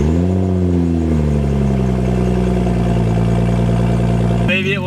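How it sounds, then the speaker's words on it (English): A BMW 335i (E92) with N55 engine and an open catless race downpipe cranking and catching, settling into a loud, rough droning idle for several seconds before cutting off near the end. "This is about to be an N55 335i starting up with an open downpipe."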